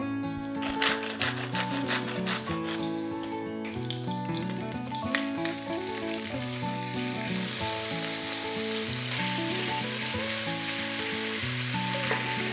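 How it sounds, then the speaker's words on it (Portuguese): Beef seasoned with salt and pepper sizzles and spits steadily in a hot pan, a continuous crackling fry with occasional stirring scrapes, close and even throughout. "vou refogar a carne"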